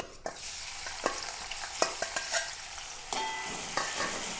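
Crushed onion, garlic and green chilli drop into hot oil and fry with a crackling sizzle, punctuated by sharp scrapes and clacks of stirring at irregular intervals; close and fairly quiet, with no voices.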